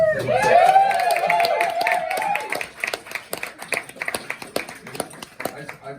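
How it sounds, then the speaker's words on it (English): Scattered clapping from a crowd at a spirits launch event, starting under a voice and then continuing as uneven, separate claps that rise and fade. "I just want to make a round of applause to Kane"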